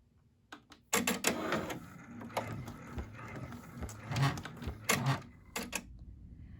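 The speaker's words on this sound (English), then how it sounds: "it's going to stitch out the satin stitch here as well as the monogram" An embroidery machine stitches a satin stitch and monogram for an in-the-hoop hand sanitizer holder, producing rapid mechanical clattering in start-stop bursts that follow a brief quiet opening.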